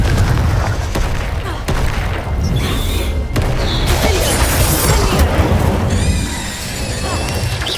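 Confringo fire-spell explosions in the game Hogwarts Legacy, a dense run of booming blasts and crashes over continuous battle noise, loud and close, with a voice calling out over it.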